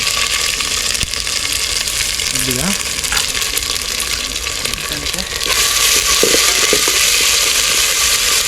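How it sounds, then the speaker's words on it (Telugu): Ginger and small-onion paste sizzles and fries in a pan of browned onions for biryani, a steady loud crackle with stirring scrapes throughout, growing slightly brighter toward the end. "ఇప్పుడు అల్లం చిన్న ఉల్లిపాయ పేస్ట్ అయితే వేస్తున్నాను"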